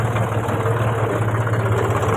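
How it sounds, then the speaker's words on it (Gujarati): An empty tractor running off-road on the way to a farm field, its engine holding a steady, loud low drone with no clear revving peaks, continuous and close throughout. "જો મિત્રો ખાલી ટ્રેક્ટર 1000 થાય તમને બતાવું"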